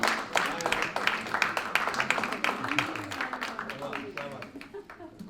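An audience applauding at a ghazal album release event at a Crowne Plaza hotel, dense rapid clapping that starts loud and gradually fades, with speech over it.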